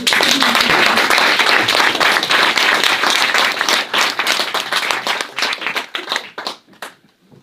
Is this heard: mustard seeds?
no